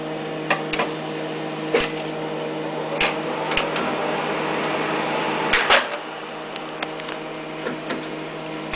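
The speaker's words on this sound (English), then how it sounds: "I don't know why it turns the vacuum on when you unload, but it does." A Hewlett-Packard tape drive runs its vacuum during unload, a steady mechanical hum broken by a few sharp clicks and clunks.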